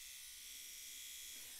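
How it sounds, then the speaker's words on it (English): A Panasonic facial trimmer runs with a steady, thin electric buzz, faint and continuous throughout, with no talking. "This one's called this one's Panasonic and called Facial Trimmer."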